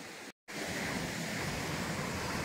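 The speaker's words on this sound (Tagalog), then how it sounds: "Ang lakas ng alon." Strong ocean waves crash continuously on the shore, a loud, broad roaring wash with no pause except for a brief cut near the start.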